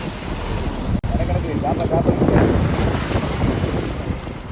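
Wind buffets the microphone over rolling sea waves on an open deep-sea fishing boat during a tuna catch, a steady loud roar with a brief dropout near the start.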